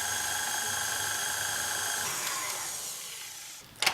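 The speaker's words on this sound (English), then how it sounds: "We're going to mix this till it's nice and creamy." Sugar being creamed into biscuit dough with an electric mixer, a loud, continuous close whine that shifts pitch partway through and cuts off at the end with a brief clatter.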